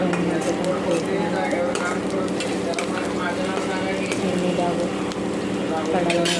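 Fenugreek leaves and soaked chana dal frying in a pan, a steady dense sizzle with stirring scrapes running throughout, close and continuous, with a voice talking over it.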